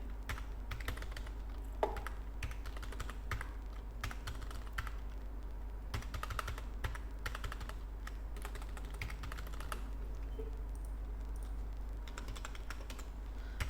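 Numbers being typed on a computer keyboard into an Excel spreadsheet: a steady run of soft, quick key clicks in irregular bursts with a constant low hum underneath and no talking.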